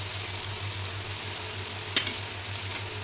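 Spices fry with onion and garlic in a pan, producing a steady close-up sizzle over a low hum, with one brief sharp clatter near the middle.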